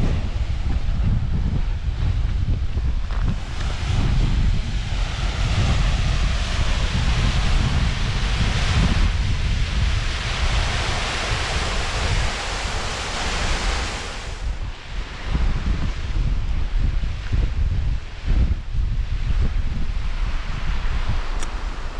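Strong wind gusts batter the microphone high on the Skye Cuillin ridge, a loud continuous roar that swells and eases over the whole stretch with no other sounds.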